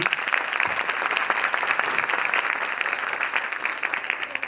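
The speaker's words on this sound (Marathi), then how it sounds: "एकदा जोरदार आपण टाळ्या वाजवूया त्यांच्यासाठी" An audience at a primary school annual day function applauds the chief guests with sustained, lively clapping that stays even and full throughout.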